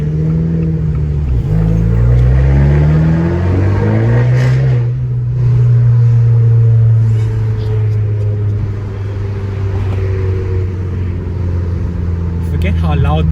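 Deep rumble and rising drone from a modified car engine as it revs and pulls through the gears while driving, loud and close, with the pitch sweeping up, dropping and climbing again.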